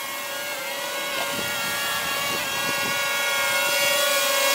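A tiny DJI Tello drone hovers close by with a steady high-pitched propeller whine and buzz, constant and fairly loud, with faint scraping noises underneath.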